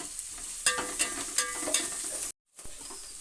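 Onions go into a frying pan for a home-style upsaaru and palya, hissing in a continuous close sizzle punctuated by a few sharp stirring scrapes, then cutting off abruptly before the frying resumes.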